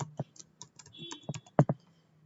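Clicks of a computer keyboard as a password is typed, quiet and close, in short irregular bursts of keystrokes with a few louder taps near the end, no voices.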